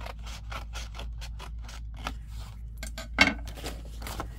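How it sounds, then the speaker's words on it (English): Scissors snipping paper to cut out a junk journal envelope, a run of short close crisp cuts at a steady pace with one sharper snip near the end, alone without talk. "let's cut out this one here"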